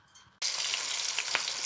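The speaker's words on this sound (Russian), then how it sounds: "Жарится моя рыбка." Steady, loud hissing sizzle of fish frying in a hot pan, starting abruptly and continuing with small crackles and pops.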